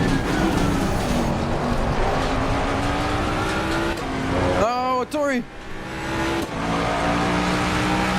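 Race car engine in the sim racing game Assetto Corsa Competizione, a loud close drone with a brief sharp rising and falling whine midway as the car shifts and brakes, under someone talking.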